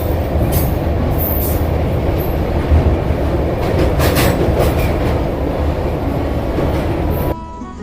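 Shatabdi Express train crossing the Saraighat bridge, a loud continuous rumble of wheels on rails with rhythmic clatter and occasional squeal, heard from inside the train without talk, dropping away near the end.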